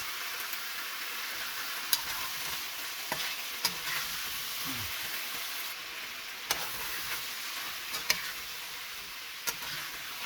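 Bright, steady sizzle of chicken adobo frying with lemongrass, punctuated by sharp ticks and scrapes of a utensil stirring against the pan, close and continuous with no voices.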